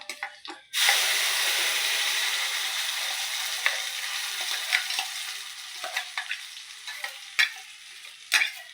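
Peanut chutney is dropped into a hot pan of tempering, which bursts into a loud, close sizzle. The frying hiss fades gradually, and light stirring clicks and scrapes come and go over it.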